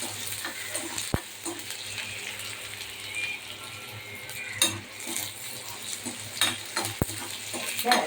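Chopped onions sauté in a pan for a taro root sambar: a faint, soft sizzle under stirring scrapes, with a few sharp utensil clicks against the pan and no talking.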